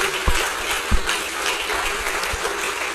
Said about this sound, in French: que tout le monde capable d'applaudir pour nous, s'il vous plaît